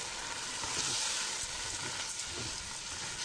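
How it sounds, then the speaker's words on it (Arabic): Washed brown lentils sizzle while being sautéed in a pan for Egyptian koshari, giving a steady close hiss and crackle that continues without pause. "ادي بس تشويحه شويه كده ينشف شويه"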